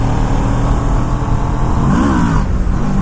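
Kawasaki Ninja 650R motorcycle accelerating up a small hill in a wheelie attempt, a loud close engine drone that rises in pitch partway through, then dips and climbs again.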